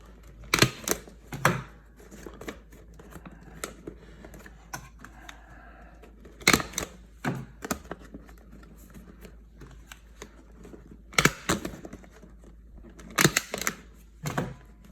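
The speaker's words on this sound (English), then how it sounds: "I don't want to smush the paper with the stapler" A stapler punches through folded paper while an origami red-envelope lantern ball is assembled: several sharp, close clicks come in small clusters, spaced by quiet pauses.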